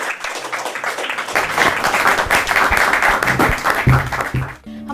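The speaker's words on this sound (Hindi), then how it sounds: "आप सबकी भरपूर तालियों में।" An audience claps and applauds at the opening of a motivational talk program, a steady dense patter of hands that holds for several seconds and then cuts off abruptly.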